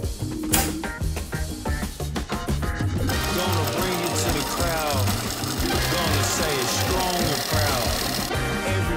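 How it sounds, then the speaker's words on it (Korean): A sewing machine stitching a leather bag, running a steady, fast mechanical chatter of needle strokes that settles into a continuous even rhythm after a few uneven starting bursts. "오늘은 머신 스티치입니다."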